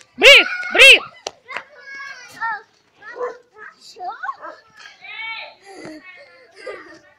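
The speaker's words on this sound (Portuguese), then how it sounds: "Olha o cachorro aqui, aqui." Two loud, close dog barks open the clip, followed by children's chatter and playful voices with a few softer sounds that may come from the dog.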